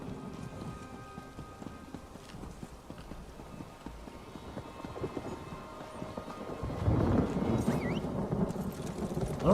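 Horse hooves pounding steadily in a video game set in Tamriel, a dense rhythmic clatter under a rain-like wash that grows louder toward the end.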